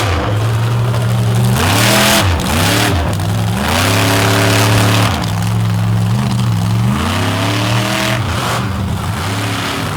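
Colossus monster truck on a muddy swamp track, its big engine revving hard in repeated surges and dips, loud and close, with the pitch climbing and falling between bursts and no talk.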